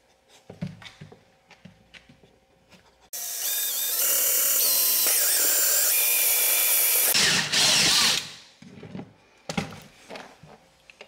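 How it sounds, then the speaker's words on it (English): A power drill bores a 2-inch hole into a vehicle seat, a loud close whine that runs steadily for about four seconds, stops briefly, then grinds once more before easing off amid light clunks. "when you drill a 2-inch hole into your seat, you just wanna make sure that you measure twice and drill once"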